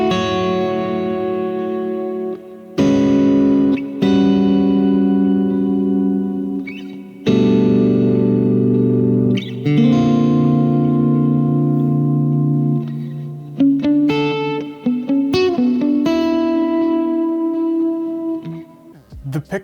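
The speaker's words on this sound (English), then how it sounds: "some of the more chordal stuff that I tend to do on this guitar kind of sounds something like" An electric guitar plays clean, ringing chords through reverb and delay, loud and close, each strum leaving a long shimmering tail.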